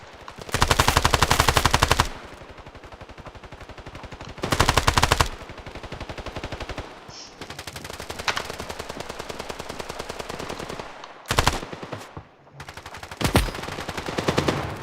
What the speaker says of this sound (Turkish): Bir yerden sıkıyor göremedim.